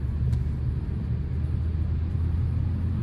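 A Mazda car cruising in 4th gear on a winter road, a steady low engine and road rumble with constant tire noise throughout, close and even, with no voices.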